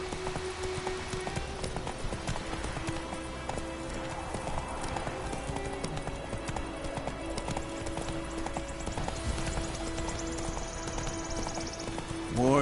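Roach the horse clip-clops steadily through The Witcher 3 over a dense game soundscape, her hoofbeats continuous and mid-distance amid music and ambient layers.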